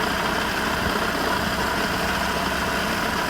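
A 2022-or-later Audi RS3 8Y idles steadily after an oil change, a constant close engine hum with no revving and no talking.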